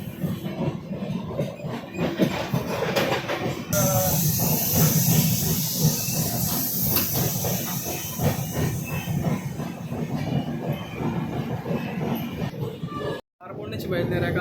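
The Tirumala Express, a passenger train between Vishakhapatnam and Kadapa, rumbles and hisses continuously from onboard, with rhythmic clatter of the carriage and a person talking over it.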